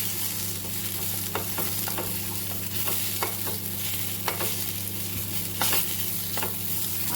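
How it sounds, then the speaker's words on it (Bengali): Potato slices fry in a pan until crisp, a steady sizzle of hot oil with occasional scraping stirs and clicks of a utensil, continuous and close, with no talk. "আলু ভাজাটা একটু দেখবে মচমচা হলে কিন্তু খেতেও বেশ ভালো লাগে"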